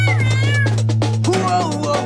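A cat meows loudly and close, giving two drawn-out, wavering cries over a steady low hum, with no talking.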